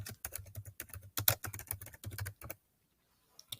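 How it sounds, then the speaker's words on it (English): Typing on a computer keyboard while entering a normal balance into Google Sheets: a rapid, close run of crisp key clicks for about two and a half seconds, then silence broken by one last faint tap. "So we're going to type in normal balance"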